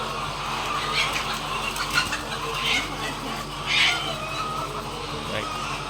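Hens newly settled into their new housing on a farm cluck softly in a steady, low-level murmur, with a few louder calls standing out near the middle and end against a constant background hum.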